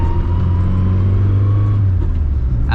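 SR20-swapped Datsun 240Z engine revs loudly and close, a strong sustained rising drone that holds for about two seconds and then drops back, with no talking.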